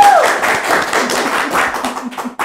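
Audience claps for Cathy, a guest presented as one of the "drôles de dames" at a year-end TV show. The clapping is brief and fairly loud, with a voice speaking over it.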